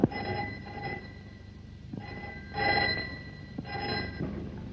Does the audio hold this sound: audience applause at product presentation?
no